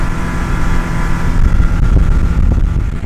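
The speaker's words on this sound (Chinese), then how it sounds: "围着快艇炫耀了一圈" A speedboat circles on a cold, windy lake at the foot of Lushan, its steady motor roar sounding close and continuous with wind buffeting the microphone and no voices.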